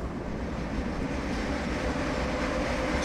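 A train rolling on rails in Train Simulator 2017 on the Miami to West Palm Beach route, backing through a road crossing, gives a steady, loud, broadband rumble that stays even throughout.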